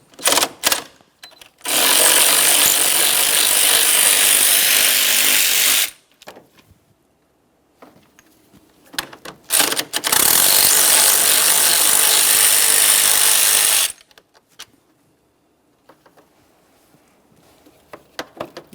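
A power ratchet whirs loudly in two sustained runs of about four seconds each, with clicks and handling noises between them, while removing two 10mm radiator fan bolts from a 2012-2015 Honda Civic 1.8L I4.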